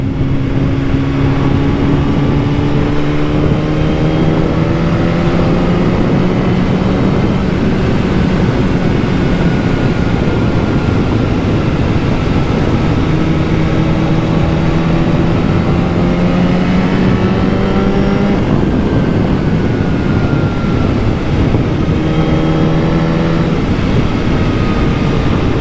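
BMW HP4 motorcycle engine on a commuting ride, rising and falling in pitch through several gear changes, loud and steady with heavy wind roar behind it and no talking.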